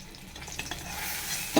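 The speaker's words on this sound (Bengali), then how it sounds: "আচ্ছা এখানে আমি মাছ ভাজা বসিয়েছি" Fish frying in hot oil gives a soft sizzle with light stirring clatter, growing slightly louder before a sharp clink at the end.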